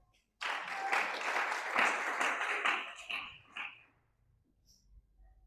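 A church congregation bursts into applause during a sermon, a dense wash of clapping that begins suddenly, holds steady for about three seconds, then thins out and stops, leaving faint background noise.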